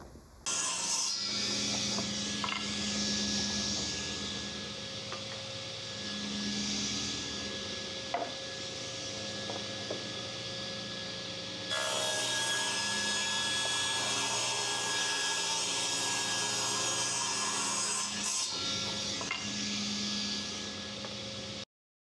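A saw rips 1-by white oak boards into slats with a loud, sustained mechanical whine and grinding cut that swells and dips as each board feeds through, ending abruptly.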